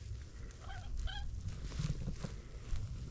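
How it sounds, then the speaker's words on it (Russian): A waterfowl near a windy lakeside fishing spot gives a few short, nasal quacking honks in quick succession early on, over constant wind rumble and no talk. "Фига себе, птичка какая-то кря говорит."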